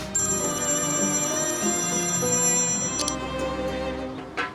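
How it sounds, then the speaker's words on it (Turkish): A telephone rings in a quiet home during a Turkish TV drama, a bright repeating electronic ring tone sounding steadily with layered tonal harmonics, alone without voices. "Telefon çalıyor galiba."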